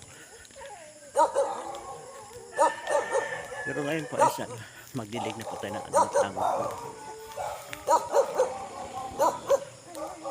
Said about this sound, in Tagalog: maingay na yung aso